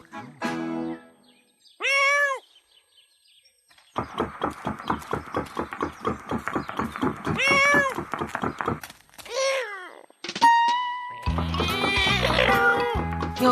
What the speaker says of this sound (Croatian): O, ti si zbilja jedna čudna mačka.